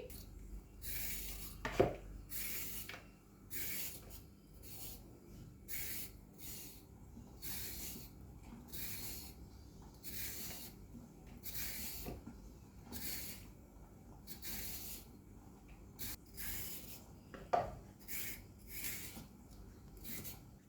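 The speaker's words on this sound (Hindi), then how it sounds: "तो इस गाजर को पहले हम पील आउट करेंगे" A peeler scrapes along raw carrots in quick, regular strokes, each a short rasp repeated roughly every second, fairly faint and close, with no talking.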